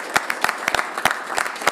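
Applause at a county board meeting: a short burst of scattered clapping from a modest crowd, the claps uneven and fairly close.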